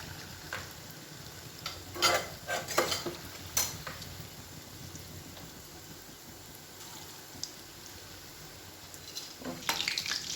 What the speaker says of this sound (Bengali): তালের ফুলগুলো তেলের মধ্যে দিচ্ছি একে একে সব ব্যাটারটা দিয়ে ফুলগুলো ভেজে নেবে